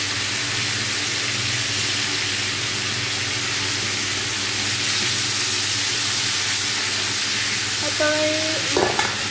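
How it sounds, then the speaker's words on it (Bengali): Green beans and cauliflower sizzle and hiss while frying in hot oil, a loud, steady crackle with occasional stirring scrapes near the end, alone without talk. "এখন আমি এই যে এই সিম আর ফুলকপিগুলো একটু হালকা করে একটু ভেজে নেব"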